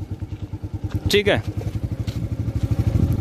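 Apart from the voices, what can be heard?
Yamaha FZ motorcycle starting to move on its own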